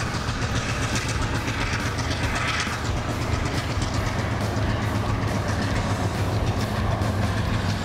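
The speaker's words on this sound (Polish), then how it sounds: "bo przyszliśmy i już jedzie" A train rumbles steadily across a bridge close by, with continuous rolling wheel noise and faint clickety-clack for the whole stretch, no voices over it.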